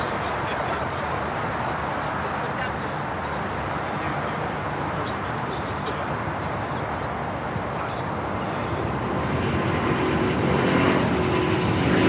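Airliner at Los Angeles International Airport rolling down runway 25 right, a steady broadband engine roar held at a constant level and swelling slightly near the end, with faint radio chatter underneath.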